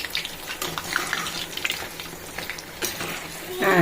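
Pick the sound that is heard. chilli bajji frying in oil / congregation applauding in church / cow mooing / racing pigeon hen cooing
chilli bajji frying in oil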